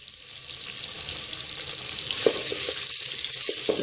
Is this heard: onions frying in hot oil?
yes